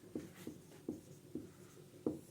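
A pen or chalk writes Hindi text by hand in a classroom physics lesson, five or six short scratchy strokes spaced about every half second, faint and close, with no speech.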